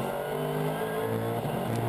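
GT race cars at Silverstone, an SLS passing a Porsche under braking, with a steady loud engine drone and shifting pitch throughout, sounding close and continuous.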